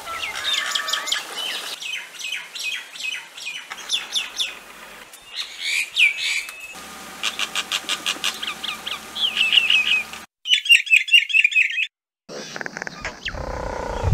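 Common myna, an expressive and quarrelsome bird, runs through a varied string of calls and song: chattering phrases, whistles, rapid repeated notes and harsh squawks, close and clear, with no talk.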